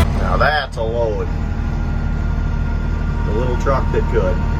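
A small farm truck engine idles with a steady low drone throughout, running under a voice talking nearby.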